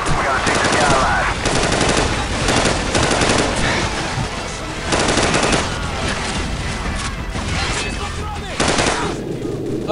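Machine gun fire in Call of Duty Modern Warfare: loud, sustained automatic bursts rattle almost continuously, pausing briefly between volleys.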